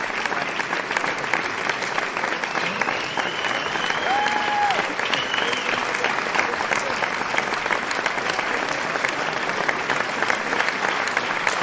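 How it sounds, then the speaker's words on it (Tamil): Sustained audience applause at a live concert, dense, steady clapping from a large crowd throughout, with a faint tonal sound briefly rising above it. "அவர்களுக்கு ஒரு பெரிய கைத்தட்டல் அளிக்குமாறு அன்போடு கேட்டுக்கொள்கிறோம்"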